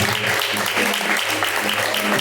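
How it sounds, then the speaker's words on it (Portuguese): Congregation applauding during a live church service, a steady wash of clapping continuing throughout with faint voices and a low musical drone underneath. "Receba as palmas bem alegres da glória de Jesus."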